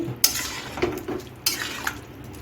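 A metal spoon stirs chirer khichuri in a pot after water is added, several sharp clinks and scrapes against the pot spaced irregularly, close and moderately loud over a faint bubbling background.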